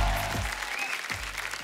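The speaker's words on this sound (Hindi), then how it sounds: "आप सबकी जोरदार तालियों के बीच" A studio audience at a Hindi TV comedy show applauds to welcome guests on stage, a broad wash of clapping that fills the short moment while low music or voices rumble beneath.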